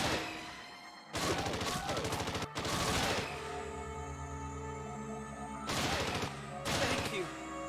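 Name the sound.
gunshots from a lightgun shooting video game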